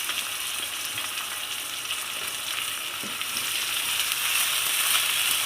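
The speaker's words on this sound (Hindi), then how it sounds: "अब मैंने इसको अच्छे से फ्राई करना है।" Chicken fries with garlic and ginger in a pan over medium heat, giving a steady, close, fairly loud sizzle and crackle that builds slightly toward the end, with no talking.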